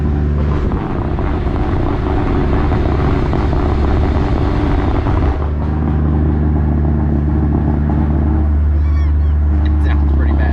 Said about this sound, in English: car's still sputtering, popping